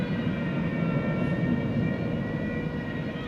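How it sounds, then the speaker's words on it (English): A jet aircraft roars steadily on its takeoff run at DFW Airport at night, a broad, sustained rumble with a faint high whine, heard from a distance and holding level throughout. "I do believe this aircraft has been cleared for takeoff"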